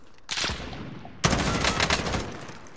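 Gunfire in the video game Call of Duty Warzone, including sniper fire: a sudden crack followed a moment later by a louder burst of rapid shots and rattling bangs, close and harsh.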